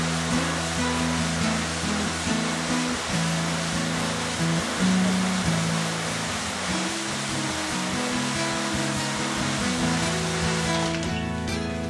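A light spray of water hits a screen-printing screen during exposure washout, making a steady, even hiss that runs almost without a break for about twelve seconds, with no talking.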